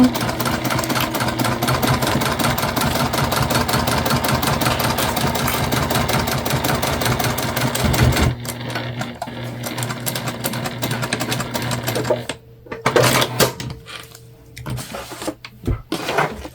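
A sewing machine stitches the seams of a fabric candy bag, running in a dense, fast rhythmic chatter for about eight seconds, then continuing in shorter start-stop bursts with quiet gaps between them.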